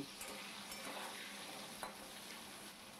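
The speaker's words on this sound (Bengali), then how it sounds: "আলুটাকে এই নুন হলুদ দিয়ে ভালো করে ভেজে নেব" Potatoes frying in a pan with salt and turmeric, a faint, steady sizzle with occasional soft stirring scrapes, heard alone without talk.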